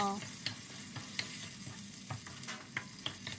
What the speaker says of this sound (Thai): เติมหัวกะทิสดไปอีกรอบหนึ่ง ผัดต่อ